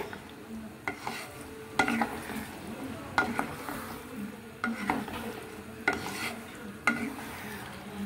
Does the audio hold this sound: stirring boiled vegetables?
yes